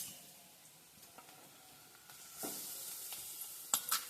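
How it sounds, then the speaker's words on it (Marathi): Onion and coconut fry quietly in a pan, a soft low sizzle with occasional stirring scrapes and a couple of sharper clicks near the end, no one talking. "कांदा छान भाजून घ्यायचा आणि मग त्याच्यामध्ये खोबरं टाकायचं आहे"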